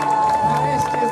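Outdoor crowd at a Kyiv star-unveiling ceremony applauding and cheering for gymnast Iryna Deriugina, a brief loud burst of clapping and shouts with a voice over a loudspeaker running through it.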